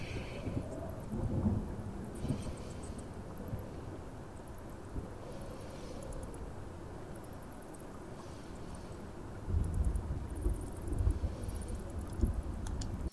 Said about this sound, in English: Great. A storm.